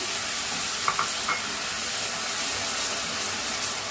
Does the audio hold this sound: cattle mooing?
no